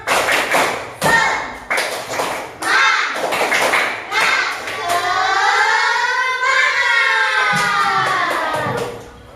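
Schoolchildren in an elementary classroom perform a rhythmic 'tepuk semangat' clapping chant, with sharp claps in bursts early on and a long sung or chanted vocal phrase following, loud and close, with children's voices throughout.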